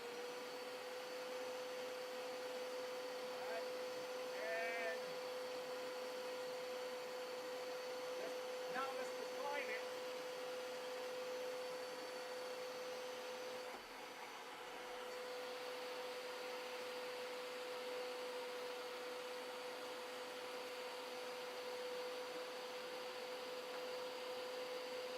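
A Hoover upright carpet cleaner runs with its brush spinning, making a steady, even motor drone with a constant whine. Quiet voices are briefly heard under it.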